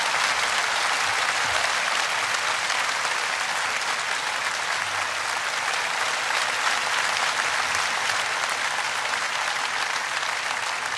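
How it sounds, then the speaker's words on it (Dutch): An audience applauding a live party orchestra, steady dense clapping that holds at an even, full level for about eleven seconds with no gaps, sounding like a large crowd heard from within the hall. "Dames en heren, geef ze een groot applaus."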